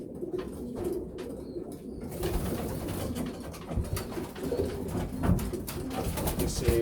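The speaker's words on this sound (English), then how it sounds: "This is a firstborn pigeon I bred from Jensen and a distance board as a present" Young racing pigeons coo steadily in a loft, soft overlapping calls running throughout with rustling and some background noise, no talking.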